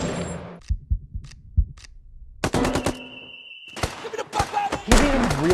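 Sharp bursts of gunfire from the film Civil War: isolated loud shots, then rapid machine-gun volleys crackling in clusters with brief silences between, close and hard-hitting.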